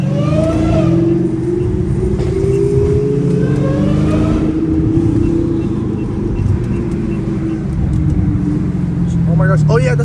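A twin-turbo Lamborghini engine revs and roars loudly and steadily at close range during a downtown Los Angeles night drive, with people talking excitedly over it.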